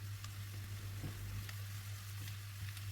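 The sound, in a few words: peppers sizzling in pan with onions and garlic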